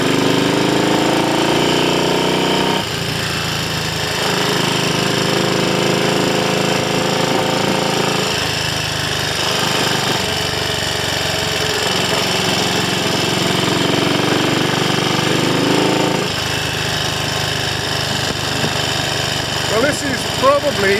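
A Triumph Scrambles Cub replica motorcycle engine runs loud and close with a steady rapid thudding beat, rising in pitch as the throttle opens and dropping back at intervals, with a voice talking over it.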